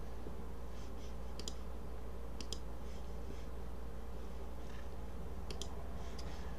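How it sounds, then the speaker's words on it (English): Computer keyboard typing in short bursts of a few quick keystrokes, faint and close, over a steady low room hum, with no talk. "we'll actually type it out"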